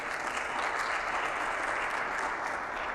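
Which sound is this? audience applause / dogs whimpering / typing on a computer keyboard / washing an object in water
audience applause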